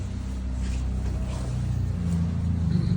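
Renault Megane 1.3 TCe engine fitted with a Prins LPG system, idling steadily after start-up on petrol, a constant low rumble close by with faint background noise.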